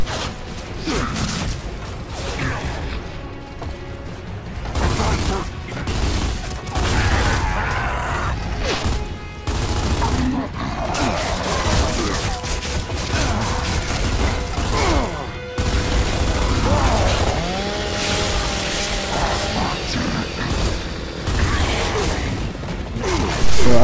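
Gears of War 2 combat, with repeated bursts of gunfire, crashes and mechanical clanks over a busy game soundscape, and a player's voice talking over it at times.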